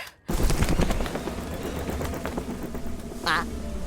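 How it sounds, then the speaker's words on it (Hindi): A flock of birds bursts up together from a swamp, a dense, continuous rush of fluttering wingbeats that starts abruptly after a brief silence and keeps going, with a short higher call rising near the end. "ये पंछियों का झुंड एक साथ क्यों उड़ा होगा?"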